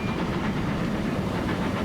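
A train rolls steadily along rails in the game Transport Fever 2, a continuous dense rumble with faint rhythmic clatter and no talk.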